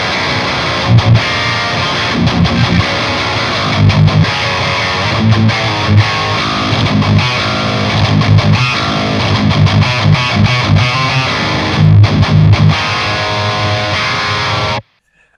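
Heavily distorted, high-gain modern metal electric guitar chugs and riffs loudly and continuously with dense, saturated tone, then cuts off abruptly at the end.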